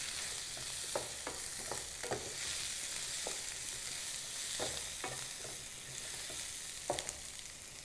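Drumstick pieces stirred into a frying mutton curry, a soft continuous sizzle punctuated by a dozen or so sharp scrapes and taps of a spoon against the pan at irregular intervals, with no voices.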